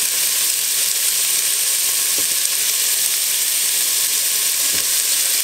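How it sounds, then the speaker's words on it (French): Meatballs with garlic and onion sauté in the bowl of a Cookeo multicooker, giving a steady, close, hissing sizzle that runs the whole time, with a couple of soft knocks and no voices. "Et je les mets aussi dans la cube du cookéo pour les faire revenir avec les boulettes."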